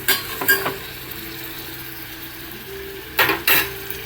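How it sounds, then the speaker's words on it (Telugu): Onions frying on a low flame in a pan for a prawn curry give a steady soft sizzle, with a few sharp utensil scrapes and clinks near the start and again toward the end. "ఇంకా ఆనియన్స్ అన్నవి మంచిగా ఫ్రై అవ్వాలి లో ఫ్లేమ్లో పెట్టి లో ఫ్లేమ్లో పెట్టి మాత్రమే ఫ్రై చేయండి"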